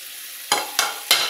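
Carrots and beans fry with spices in a pan, and three quick stirring strokes scrape through the pan over a steady background sizzle.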